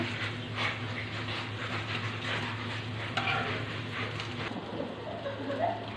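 Shrimp fritters fry in hot oil in a home kitchen, giving a continuous low sizzle with soft stirring and scraping sounds that come and go throughout.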